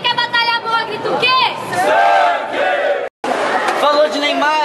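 Spectators at a Brazilian rap battle shout and cheer together in a loud, dense roar, their voices rising and falling in waves with a brief cut of silence partway through.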